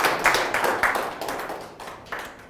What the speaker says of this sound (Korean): 맞으면 박수 부탁합니다.